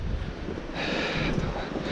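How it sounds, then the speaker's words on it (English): Strong wind buffets the microphone in a steady, rumbling roar, with a brighter gusty hiss rising partway through. "It's a little windy."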